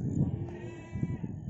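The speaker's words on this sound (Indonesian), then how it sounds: "ini adalah domba punya Mas Rasif." A sheep, a young ewe of a local Indonesian breed kept for breeding and milk, bleats twice in quick succession close by, followed by softer rustling and murmuring livestock noise in a farm pen.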